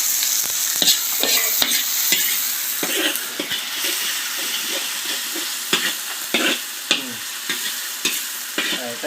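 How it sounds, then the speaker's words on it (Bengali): Ginger and garlic frying in a hot pan while being stirred: a loud, continuous sizzle broken by repeated scraping and clattering strokes of the spatula, with no talking. "এবার একটু নাড়াবো, আর আদা রসুনটা একটু হলে তারপর দেবো টমেটো কুচি।"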